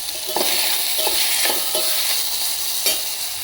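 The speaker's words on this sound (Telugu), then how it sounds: "కొంచెం వేగనిద్దామండి ఇవన్నీ" Diced brinjal and ivy gourd frying with salt in a pan for vegetable sambar, giving a steady bright sizzle broken by four or five scraping stirs of a spatula, close and clear with no talking.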